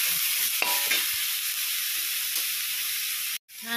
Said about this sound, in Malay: Tumis-tumis saja, tak payah lama.